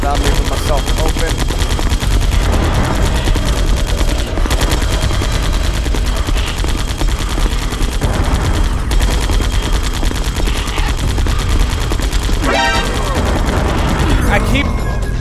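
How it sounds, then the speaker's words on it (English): Sustained heavy automatic gunfire from the Vulcan Raven fight in the game Metal Gear Solid: The Twin Snakes, a loud, continuous rattling barrage with occasional booms throughout. "I keep shooting him, but it doesn't count."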